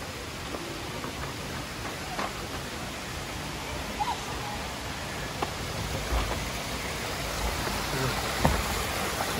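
Steady broadband rush of a small indoor waterfall at a Cabela's store in Dundee, Michigan, continuous and moderately loud, with faint voices underneath.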